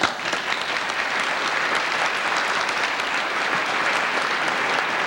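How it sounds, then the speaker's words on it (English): A large audience at a 1993 convention center opening gala applauds in a dense, sustained wash of clapping that holds steady for several seconds. "May I applaud you."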